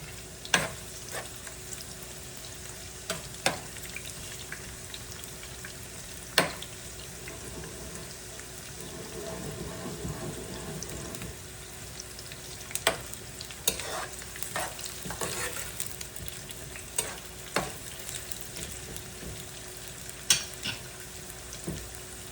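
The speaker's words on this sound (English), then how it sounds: "that's the sound you want to be hearing when you do add the onions in" Onions sizzling and frying in oil in a pan for a sweet-and-sour chicken stir fry, a steady close crackle broken by scraping stirs and occasional sharp clicks of the utensil.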